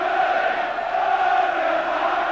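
Large football crowd of supporters at the Den stadium for an FA Cup fourth round tie, Millwall against Liverpool, a steady dense roar of many voices filling the ground without a break.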